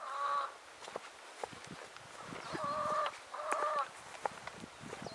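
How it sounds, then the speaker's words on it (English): Chickens cluck and squawk at a distance, their calls rising and falling in bursts over quiet outdoor background noise. "as you can probably hear in the distance, they're making a right racket"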